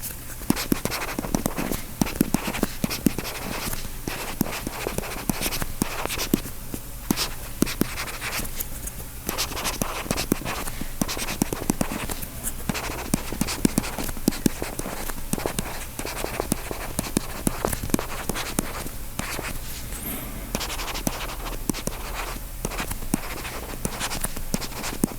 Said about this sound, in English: So I'm just going to do sound recording with the Remarkable 2 pen, or more importantly, Remarkable 2 nib.